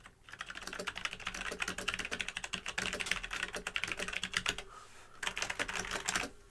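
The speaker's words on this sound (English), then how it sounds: "this is the first time I'm actually typing on the keyboard" Clicky Logitech G413 Carbon mechanical keyboard being typed on, a fast, steady stream of sharp key clicks for several seconds, a brief pause, then another burst of rapid clacking, close and fairly loud with no talking.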